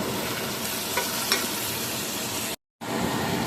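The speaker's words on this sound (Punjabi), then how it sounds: "ਪਿਆਜ਼ ਆਪਣਾ ਭੁੱਜ ਗਿਆ ਹੈ ਤੇਲ ਛੱਡਤਾ ਇਹਨੇ" Onions frying in oil in a pan for a Punjabi fish curry, a continuous dense sizzle with a couple of faint stirring clicks, cutting out briefly near the end before resuming.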